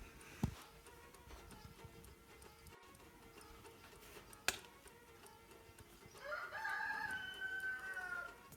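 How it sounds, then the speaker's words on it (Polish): A rooster crows once from some distance near the end, a faint drawn-out call over a quiet outdoor background with a couple of sharp knocks earlier. "Powitanie koguta"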